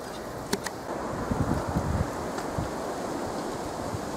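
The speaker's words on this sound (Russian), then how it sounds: "ветер сильный и холодно" Strong, cold late-autumn wind roars steadily across the microphone outdoors, with a few brief knocks and rustles near the start.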